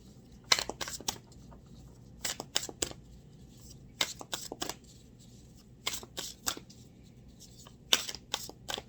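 Tarot cards shuffled and dealt out in a reading, crisp close riffles and snaps in scattered bursts with quiet gaps between them.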